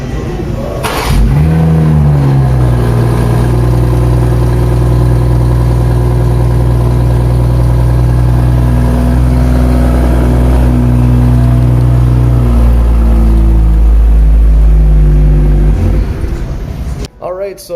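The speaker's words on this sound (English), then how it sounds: "Do a little remote start" A 2022 BMW X7 xDrive40i remote-starting outdoors: the engine cranks and catches with a loud rising rev, then settles into a steady, close idle before cutting off, with someone speaking briefly near the start.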